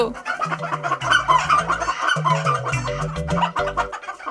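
Duck-like quacking in a fantasy TV episode, a rapid, nasal run of honking calls in short bursts that continues without pause, close and fairly loud.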